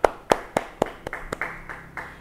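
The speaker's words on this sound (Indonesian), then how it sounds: "Beri tepuk tangan bagi dia." Claps from a church Bible-study audience: a few loud, sharp hand claps spaced evenly at the start, then a quicker, softer, irregular patter that trails off, with no voices.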